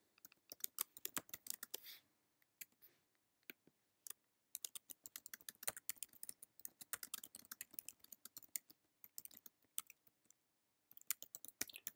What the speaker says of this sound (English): I'm just typing some stuff in here for notes